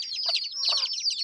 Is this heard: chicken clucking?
yes